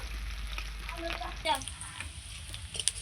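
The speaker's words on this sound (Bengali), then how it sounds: "রসুন আর কাঁচা লঙ্কাটা খুব সুন্দর করে ভাজা ভাজা হয়ে গেছে" Chopped garlic and green chillies fry in hot mustard oil, giving a soft steady sizzle with a few brief crackles and stirring clinks, fairly quiet and close.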